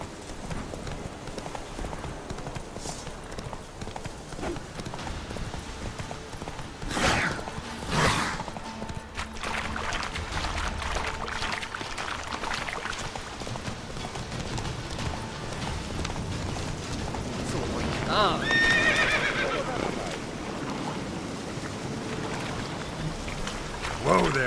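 Geralt's horse Roach, from The Witcher 3, gallops with steady, rhythmic hoof clip-clops throughout, set against a soft rain-like wash and occasional background effects.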